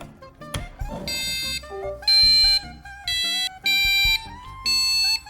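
A small passive piezo buzzer driven by an Arduino Mega board beeps out a tune of pitched electronic tones, some held and some in quick steps, loud and close with no talking.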